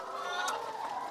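Laying hens housed in a tunnel in winter, a dense chorus of clucking and soft warbling calls from many birds at once, close and steady for about a second.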